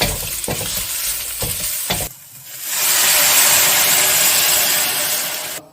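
Dried round red chillies go into hot oil in a pan for a hoisin pork curry, with a few clattering stirs and then a loud, steady sizzle of frying that fades at the end.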